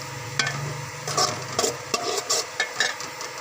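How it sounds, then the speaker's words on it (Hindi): Onions browning in a cooking pot on a stove, soft sizzling under repeated stirring scrapes and light clinks of a utensil against the pot, close and moderately loud. "देचकी को चूल्हे पर रखा और प्याज को ब्राउन किया।"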